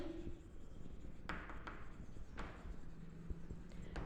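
Pen writing on paper or a board during an accountancy class, a few short scratchy strokes and taps spaced out over a quiet room, close and soft.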